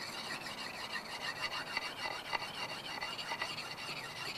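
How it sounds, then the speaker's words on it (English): A tool being sharpened on a coarse diamond whetstone at a Nordic building site, with a quiet, repetitive rasping scrape of steel stroked back and forth against the stone, close up and steady. "I'm just using this is quite a coarse diamond whetstone, as it's called"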